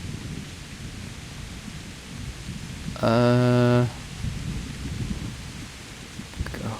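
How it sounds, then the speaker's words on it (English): Heavy rain pours down in a Kingdom Come: Deliverance game scene as a steady, wide hiss. A brief ringing tone cuts through the rain near the middle, and a voice gives a short exclamation. "it's pouring with rain."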